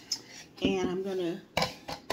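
Cookie dough is mixed in a bowl with a utensil, giving sharp clinks and scrapes against the bowl in short bursts, close by, with a brief voiced sound partway through.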